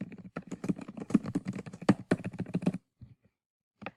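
Typing on a computer keyboard: a quick, close run of crisp key clicks in an uneven rhythm for almost three seconds, then a pause broken by a few scattered final taps.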